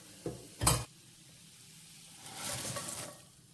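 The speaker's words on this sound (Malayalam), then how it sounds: "നമുക്കിനി നന്നായിട്ട് മിക്സ് ചെയ്ത് യോജിപ്പിക്കാം" A fried cornflakes snack mixture is stirred in a pan: two quick clinks of a utensil, a pause, then a soft, dry rustling scrape, faint and close.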